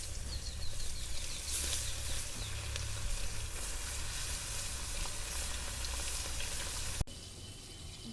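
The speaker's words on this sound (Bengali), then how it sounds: "এখন মাছগুলো ভেজে নেব।" Tilapia fish fry in hot oil in a wok, a steady close sizzle with scattered spits and crackles that drops off abruptly near the end.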